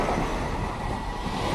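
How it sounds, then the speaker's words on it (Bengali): A night train runs past a railway station platform, a steady close rumble of rolling wagons filling the whole stretch with no voices. "এখনই আমাদের সামনে থেকে রাত 11:30 ট্রেনটা গেল"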